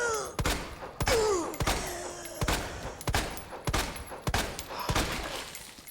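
Repeated gunshots fired at zombies in Resident Evil 2 Remake, about ten sharp loud cracks spaced unevenly over several seconds, with faint groans and game noise between shots.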